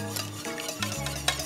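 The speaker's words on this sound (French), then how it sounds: "Voilà, je mélange bien." Clafoutis batter mixed with melted butter, stirred in a bowl with soft, close scraping and swishing strokes, over a low steady hum and no talking.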